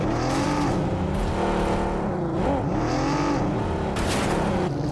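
Vehicles drive in a PUBG Mobile esports match: a dense mix of engines accelerating, revving and swerving, continuous and loud, layered with overlapping game effects.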